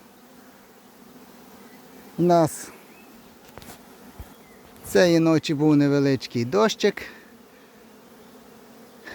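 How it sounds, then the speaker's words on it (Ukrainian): Honeybees hum at an apiary in a ravine, a steady low buzz of many insects running under the whole stretch while someone speaks in bursts over it. "після обіду пасіка загуділа"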